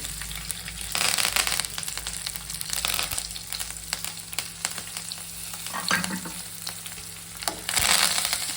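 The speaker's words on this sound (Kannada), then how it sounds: "ಇವಾಗ ಎಣ್ಣೆ ಕಾದಿದೆ, ಸಾಸಿವೆ ಹಾಕೊಳ್ಳೋಣ. ಬೆಳ್ಳುಳ್ಳಿ ಒಂದೊಂದೇ ಹಾಕ್ತಾ ಹೋಗೋಣ." Mustard seeds and garlic sizzle in hot oil in a pan for tomato rasam, a continuous crackling hiss with bursts of louder spitting and occasional stirring clatter.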